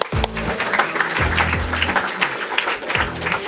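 Audience applause at a climate hackathon awards ceremony in Bratislava, a sustained round of clapping with low, booming thumps and a voice murmuring over it.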